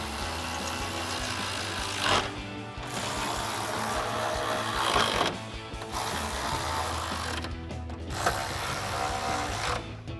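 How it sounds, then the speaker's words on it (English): A ratchet with a 10mm socket tightens bolts on a replacement upper grille for a 2016-2018 Chevrolet Silverado 1500, clicking rapidly and loudly up close in several bursts separated by short pauses. "we'll grab our 4 10mm bolts and secure them all the way across with a ratchet 10mm socket"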